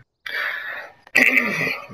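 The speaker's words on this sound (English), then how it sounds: "I'm sorry if I have this cough." A man clears his throat and coughs twice, two close, loud, raspy bursts separated by a short pause.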